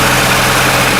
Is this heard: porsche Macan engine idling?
yes